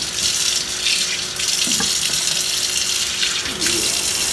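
Warm bath water pouring from a tap into a tub, a steady close hiss and splash with a few faint knocks and no talk.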